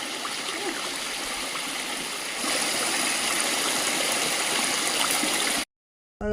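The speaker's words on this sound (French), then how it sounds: "Et me voilà au milieu de la cascade." Small waterfall in the Chartreuse mountains of Isère trickling and splashing steadily, a continuous broadband water rush with no talk, cutting off briefly near the end.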